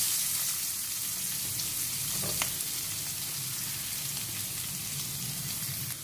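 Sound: mustard seeds spluttering in oil with onions added

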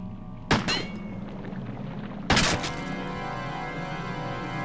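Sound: gunshot from the video game Crow Country

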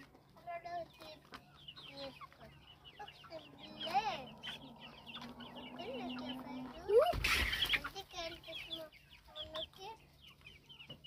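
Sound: chickens clucking

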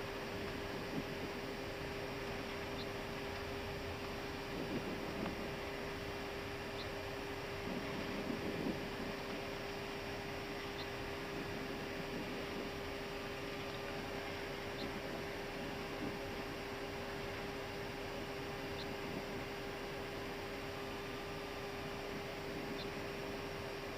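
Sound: Airbus A320 taking off, heard from cockpit

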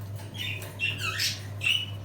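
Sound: budgerigars squawking in home breeding cage

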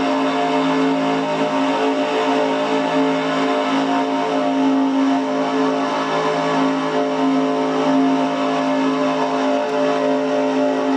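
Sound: race car engine revving in NASCAR Racing 2003 video game

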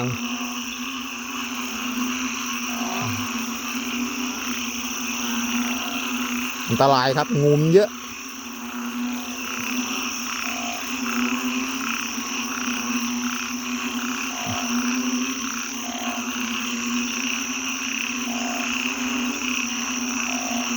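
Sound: banded bullfrogs and frogs croaking

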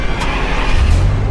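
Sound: car driving in a video game

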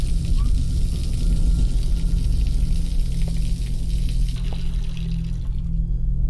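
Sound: running water from a tap in the video game Observer

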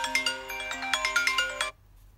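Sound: phone ringtone played through the speaker during a speaker test

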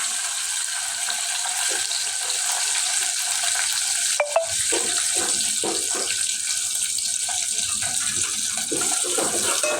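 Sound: curry leaves and onion frying in oil

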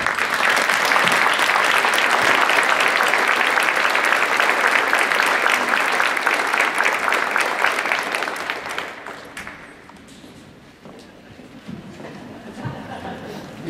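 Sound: audience applause at school Veterans Day celebration

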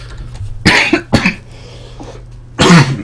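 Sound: coughing from lava smoke in Minecraft

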